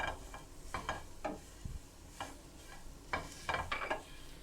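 Shredded cabbage is stirred in a frying pan for chicken and vegetable bread patties, with soft sizzling under intermittent scraping strokes of a spoon, quiet and close, no voices.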